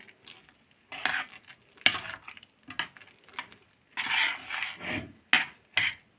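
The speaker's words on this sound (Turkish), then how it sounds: "İyicene karıştırıp demlemeye bırakıyoruz." Mercimek köftesi lentil mixture stirred with a spoon in a pot, a run of irregular scraping and swishing strokes with short pauses, fairly close and moderately quiet.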